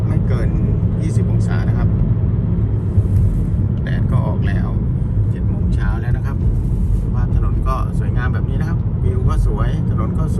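A car drives down a winding mountain road in Nam Nao National Park, Phetchabun, Thailand; a loud, continuous engine and road rumble fills the cabin while someone talks over it.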